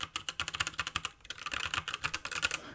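Rapid typing on a PHNX mechanical keyboard, a steady patter of close, rounded key clacks that grows slightly busier toward the end.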